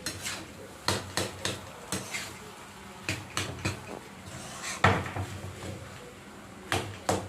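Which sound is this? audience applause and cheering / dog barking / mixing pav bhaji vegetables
mixing pav bhaji vegetables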